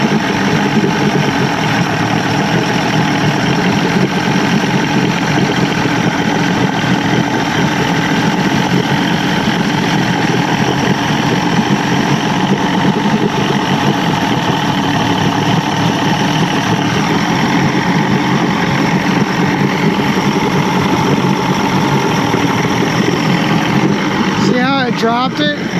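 1989 Johnson 150hp outboard motor on a McKee Craft boat idling at low RPM, a loud steady rumbling drone that holds constant throughout.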